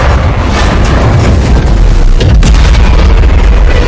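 Loud, continuous rumbling explosions with sharp bursts of gunfire cracking through, dense and chaotic, from a naval battle between American and Japanese fleets.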